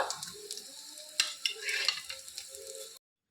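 Chicken keema tawa kebabs sizzle and spatter steadily on a hot griddle, with a few sharp crackles and scraping as pieces are moved and lifted.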